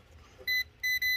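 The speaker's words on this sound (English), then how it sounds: "When you touch a live wire, or it'll beep on you," A voltage tester beeps on a live wire while a range hood is being installed, giving three loud, high, steady electronic tones, the first alone and the last two close together.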